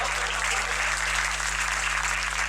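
Steady, dense audience applause at a Hindi comedy show, with a low electrical hum beneath the continuous clapping throughout.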